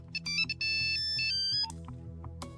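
A phone ringtone plays a bright electronic melody of quick, stepping tones. It is fairly faint, lasts a couple of seconds and ends with a short final chirp.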